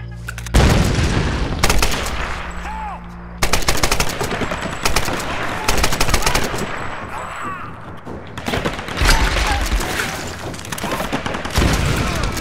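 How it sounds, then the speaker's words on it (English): Gunfire and blasts from grenades in the Tomb Raider video game, with repeated loud bursts and booms spread through the clip and a voice briefly audible between them. "I'm going to grenade them"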